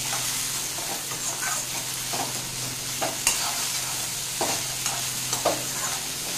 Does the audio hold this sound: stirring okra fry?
yes